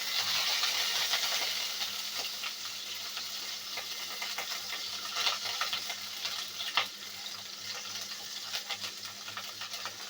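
Chopped garlic and onion fry in a pan while being stirred, giving a continuous, moderate crackling sizzle with light scraping clicks throughout and no voices.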